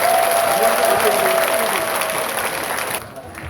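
A hall audience applauds a university dean after a special lecture, with dense, loud clapping filling most of the clip before cutting off abruptly near the end, while a faint voice is heard at the start.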